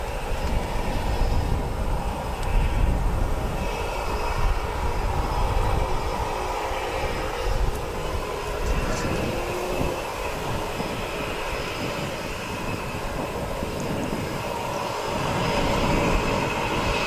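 An Air Force Boeing 757 taxis at Wellington Airport, its engines giving a steady broad roar with a low rumble that holds at a fairly even level throughout, fairly close, with no talk.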